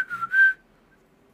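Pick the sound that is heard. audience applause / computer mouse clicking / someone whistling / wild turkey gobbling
someone whistling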